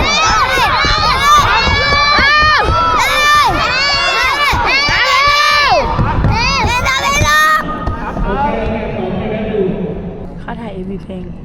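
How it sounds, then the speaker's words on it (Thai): Children shouting and cheering on a music video set, a dense, excited crowd of high voices yelling in bursts for several seconds before fading into quieter chatter. "ระหว่างเด็กๆรอเข้าซีเราก็แอบมาเป็นกองเชียร์ให้พี่ๆซีนใหญ่กันค่ะ เชียร์กันมันเลยทีเดียว"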